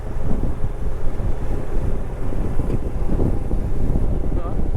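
Gusty wind sweeps through a forest as rain begins, a loud steady rush buffeting the microphone throughout.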